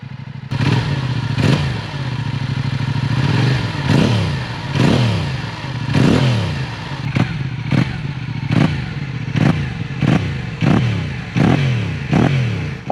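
A Yamaha R7 motorcycle with a full exhaust system blips through a series of sharp, throaty revs, rising and falling repeatedly, faster toward the end, over a rumbling idle.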